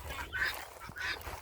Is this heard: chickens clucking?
yes